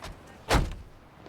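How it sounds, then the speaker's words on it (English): One car door knocks into another car's door in a single dull thud, close and brief against a quiet background. "Just ding my door."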